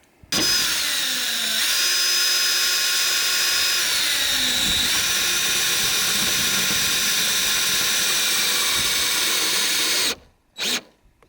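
A power drill driving screws into an outhouse roof, one long loud whirring run with slight shifts in pitch, then a sudden stop, a brief silence and a short final burst.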